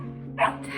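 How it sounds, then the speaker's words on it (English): A single short dog bark or yip rises over a steady low hum at a hilltop arrival spot near Positano at sunset, brief and moderately close. "Terrible dog."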